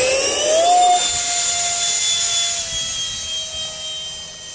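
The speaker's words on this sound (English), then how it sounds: "We're just gonna fly around at half throttle for a while, get it trimmed out." An EF-16 model jet flies at half throttle, its turbine whine loud and steady throughout with a slight pitch shift early on, and no voices are heard.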